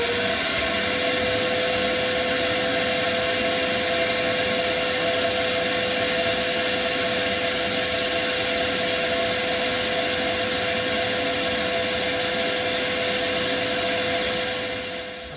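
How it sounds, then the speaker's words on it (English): A steady, loud abrasive whir of a power sander with 60-grit sandpaper on resin runs without a break, grinding continuously throughout with no talking. "I'm just going to start sanding it back with some"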